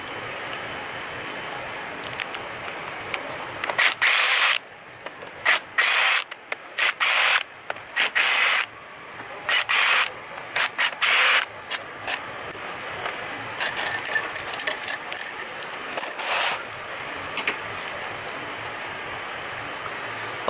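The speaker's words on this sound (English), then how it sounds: "we can use the impact so we can remove the head bolts" A pneumatic impact wrench loosens cylinder head bolts on a Ford 4.0 engine in a workshop. It fires in a series of short, sharp bursts separated by brief pauses, close and loud.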